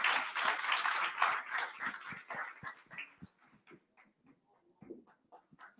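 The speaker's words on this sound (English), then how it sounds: "can we give a round of applause to Mama Swai and the SETI Bank?" An audience applauds at a talk on gender and inclusion in just energy transitions. The clapping is dense and steady at first, then thins after about three seconds into scattered, fading claps.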